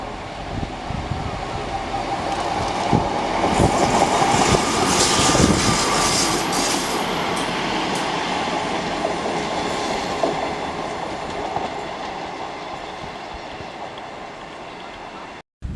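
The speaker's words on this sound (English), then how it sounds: "And just in time we have a train coming along." A passenger train runs along the Cumbrian coast railway near Harrington, its rumble swelling to a peak mid-pass and then fading gradually, heard from trackside outdoors.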